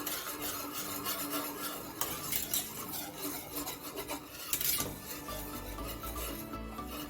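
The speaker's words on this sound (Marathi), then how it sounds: "थोडं घट्ट होस तोपर्यंत आपल्याला हलवत राहायचं आहे" Close, continuous stirring and scraping as thick white sauce for pasta is worked in a pan, with rhythmic rasping strokes of the utensil against the base and occasional louder knocks, no voices.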